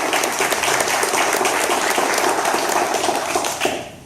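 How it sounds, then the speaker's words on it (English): A room of people at a Daytona Beach entrepreneur meetup breaks into dense, sustained applause for the event organizers, loud and even throughout before tapering off at the end. "So how about a round of applause for that?"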